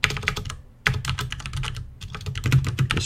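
Fast, continuous clatter of keys on a computer keyboard while coding the Nim game, with close, dense clicking in short bursts and one brief pause, no talking.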